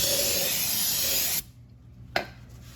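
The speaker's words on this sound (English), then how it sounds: "I'm gonna go ahead and spray it, and hopefully this will be strong enough to take it off" Non-chlorinated brake cleaner sprays onto a car clutch in one loud, close, continuous hiss of about a second and a half. It stops abruptly and a brief click follows.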